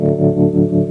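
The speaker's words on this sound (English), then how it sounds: "A very nice humming tremolo there" An electric guitar chord sustains through a tremolo effect on a Digitech RP200 multi-effects unit, its loud humming tone pulsing in a steady, rapid rhythm with no voices.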